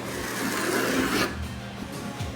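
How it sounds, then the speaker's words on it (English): A scrub brush rasps steadily against an exterior door, scrubbing off loose, flaking paint with continuous close, fairly loud strokes. "I went around with a scrub brush and I scrubbed in here, tried to get off any more of the loose paint that I could get off of there"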